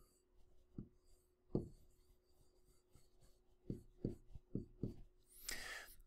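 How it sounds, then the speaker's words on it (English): Pen or marker strokes on a board or paper during a physics lecture on a freely falling flower pot, heard as several short, separate scratchy strikes spaced irregularly, fairly close and moderately loud, with a brief brighter swipe near the end. "we're going to draw a flower pot"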